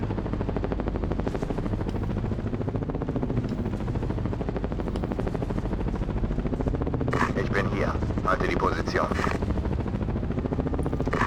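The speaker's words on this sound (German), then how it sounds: "Helikopter gesichtet." A helicopter in the video game Ghost Recon Advanced Warfighter gives a steady, close rotor drone throughout, with bursts of game combat noise near the end. Someone speaks over it.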